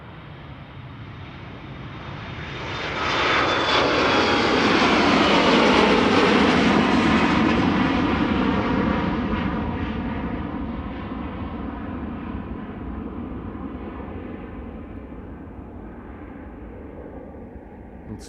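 A KLM narrow-body jet takes off at Amsterdam Schiphol, bound for Cork: a loud, broad engine roar swells over a few seconds, holds, then slowly fades as the aircraft climbs away, with a high whine drifting through the rumble.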